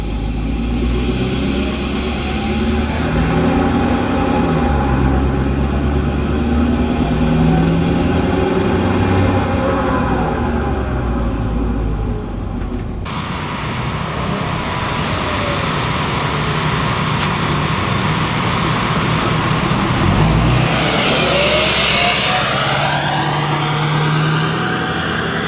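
A car's engine and exhaust rumble through an open window, steady and fairly loud, with revving and a shift in tone partway through, near a car meet and with no talking.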